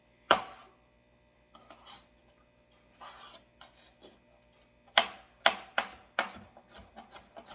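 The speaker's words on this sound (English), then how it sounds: "You make some slices." A knife slices through crab meat (jaiba) on a cutting board for tostadas, with a few scattered soft cuts followed by a burst of four or five sharp, close chops in quick succession.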